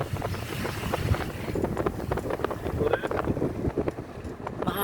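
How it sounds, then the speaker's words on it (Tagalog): Strong seaside wind buffets the microphone in gusty, rumbling bursts, with traffic-like noise behind and a voice speaking briefly under the roar. "Grabe hangin. Lakas ng hangin."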